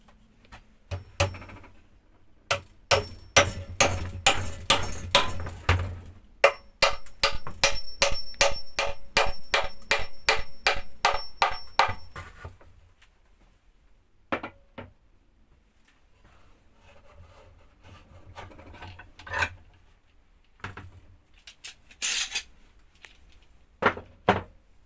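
A hammer drives nails into old deck boards while a nest box is built, heard as close, rapid rhythmic strikes in two long bursts, then sparse single knocks and scrapes with quiet gaps.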